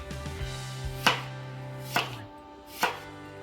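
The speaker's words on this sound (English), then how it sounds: "on the onions on this recipe, we're going to cut them kind of long slivers" A knife chops onions into long slivers on a cutting board: three sharp, separate knocks about a second apart, close and clear, with quieter slicing before them and no talk.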